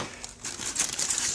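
Scissors snip open a crinkly plastic bag holding parts from a 1/35 scale tank model kit, heard up close as a brief burst of crackling and cutting with no talk.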